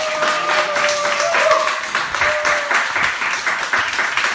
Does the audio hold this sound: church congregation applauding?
yes